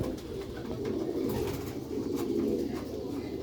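Purebred black-faced Sheikh pigeons coo in soft, repeated low murmurs, close and steady, with a faint hiss of background noise and no talking.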